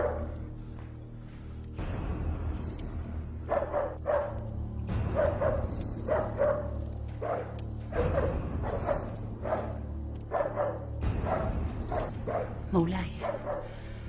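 A dog barks in a dramatized historical scene, repeated yips and bow-wows in bursts under dramatic dialogue and score, with a short whimper near the end.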